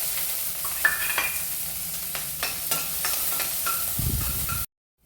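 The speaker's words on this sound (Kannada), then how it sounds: "ಈಗ ಇದನ್ನು ಫ್ರೈ ಮಾಡಬೇಕು. ಮೊದಲು 1 ಅಥವಾ 1/4 ಸ್ಪೂನಷ್ಟು ಎಣ್ಣೆ ಹಾಕುವ." Onion-tomato paste frying in oil in a pan for a cashew chicken gravy gives a steady sizzle with stirring clatter and a few utensil knocks, ending abruptly in silence.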